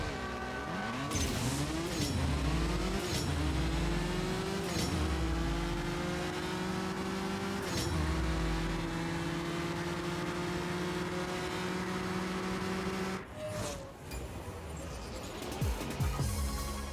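Cars racing in the mobile game CSR 2, an Aventador SVJ 63 and a Ferrari 599 GTO, engines revving hard through repeated rising gear shifts, loud and close, with a brief lull near the end before revving resumes.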